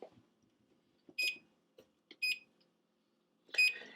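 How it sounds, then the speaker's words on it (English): Oven timer beeping in a home kitchen during a garlic roast, three short bright electronic beep bursts spaced about a second apart, moderately loud against a quiet room. "Timer just went off."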